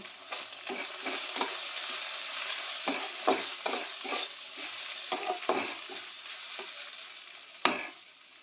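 Potatoes and chopped tomato fry together for jhal suji, a loud continuous sizzle with frequent stirring scrapes and one sharp knock near the end, no voices.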